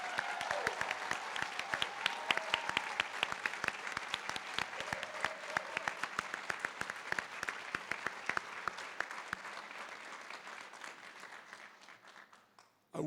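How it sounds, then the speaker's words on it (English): Audience applause at an evening College of Humanities pre-commencement ceremony, honoring graduating students: a sustained, dense burst of many hands clapping for about twelve seconds, then tapering off. "give all of our students who will be graduating this evening from the College of Humanities a round of applause"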